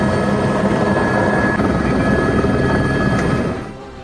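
A rescue helicopter lifts people off flooded rooftops during monsoon flooding in Pakistan. Its rotor drone is loud, close and continuous, then eases off near the end.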